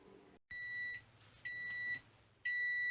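A kitchen oven timer beeps while breadsticks bake: three separate bursts of high, steady electronic tones, evenly spaced and moderately quiet in an otherwise still room.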